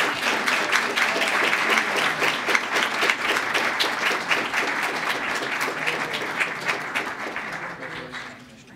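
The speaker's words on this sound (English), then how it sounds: "One more round of applause." Sustained audience applause at a White House Lunar New Year celebration honoring Asian Americans and Pacific Islanders, full and steady before gradually thinning and fading out at the end.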